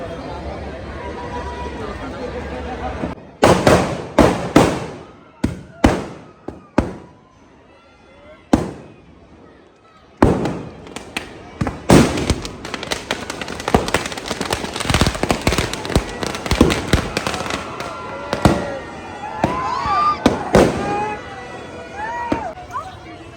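Firecrackers burst around a burning Ravan effigy at a Dussehra celebration in Karol Bagh, sharp loud bangs coming irregularly and then crowding into dense crackling volleys, with crowd babble and people talking in between.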